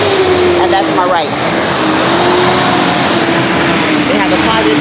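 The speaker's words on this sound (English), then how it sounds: "This truck is noisy. Noisy truck." A loud, noisy truck engine rumbles close by on a city street, a steady droning roar with a shifting engine tone as it passes, with a person talking over it.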